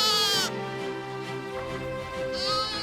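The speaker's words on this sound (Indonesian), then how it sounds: "asal-usul domba batur ini hasil persilangan antara domba merino dan domba lokal" Batur sheep, a merino and local breed cross, bleat loudly at close range, with a long wavering call at the start and another rising at the end over a steady farmyard background.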